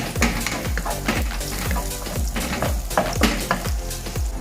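Chinese sausage fries in a hot wok for Penang char koay teow, with a steady loud sizzle cut by rhythmic scraping and stirring strokes about every half second, close up and with no talking.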